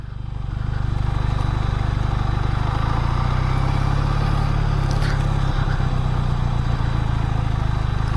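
A QJ SRK400 motorcycle cruising in gear at low speed without lugging, its engine a steady, continuous loud rumble with road and wind noise throughout, no pauses and no voice.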